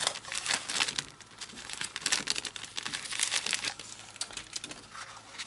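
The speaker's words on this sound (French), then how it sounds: "sinon je le déchire" Crinkly plastic packaging from a Christmas-village purchase, patterned with red and snowflakes, rustles and crackles steadily at close range as it is worked and pulled open, with scattered brighter crunches throughout.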